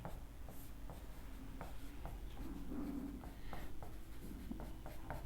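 A pen writes on paper during a maths lesson, making quiet, close scratching strokes in short irregular bursts with brief gaps between them, over a soft background hum.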